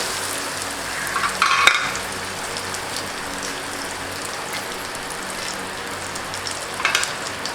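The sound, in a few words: chopped onion frying in a pan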